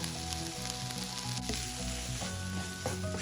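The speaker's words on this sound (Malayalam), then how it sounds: "വളരെ കനം കുറച്ചരിഞ്ഞ ഒരു മൂന്ന് മീഡിയം സൈസ് സവാളയുണ്ട് ചേർക്കാം" Three medium onions, very thinly sliced and salted, frying in a pan with a steady, loud sizzle and occasional stirring scrapes, no talking.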